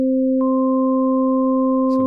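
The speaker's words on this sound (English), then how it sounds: "You can see it's still sine waves on different frequencies." Synthesized sine-wave tones held steady at several different pitches at once, clean and electronic, with a brief extra tone entering partway and a short rough noise at the very end.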